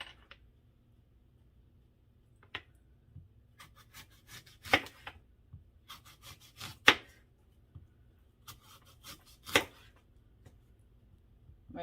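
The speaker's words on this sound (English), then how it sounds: "And then cut them into slices." A knife slices Fuji, Gala or Granny Smith apples in a quiet kitchen, giving a series of crisp, separate cuts spaced a second or two apart, close and fairly soft.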